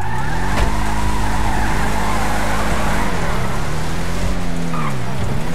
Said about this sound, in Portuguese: Esse carro meu desliza muito